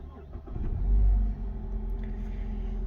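A 2014 Mazda Axela engine idles just after push-button start, a close low rumble with a brief swell of revs early on, then settling into a steady hum.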